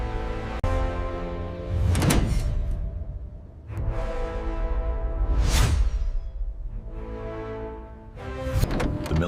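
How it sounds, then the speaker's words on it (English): The driver's side door of a restored military truck, kept in a locked garage for 25 years, swings open with soft whooshing swells and a dull thunk, repeating several times over a steady droning background. "The military truck's driver's side door slowly opens, revealing the pristine, restored, rugged interior."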